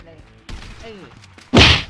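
A single loud gunshot in GTA V lands near the end, right after brief talk and a couple of muffled thumps.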